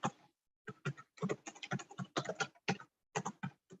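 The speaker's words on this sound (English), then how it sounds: "I think somebody is typing" Rapid bursts of keystrokes on a computer keyboard, close and clear, with short pauses between clusters of typing and no talking.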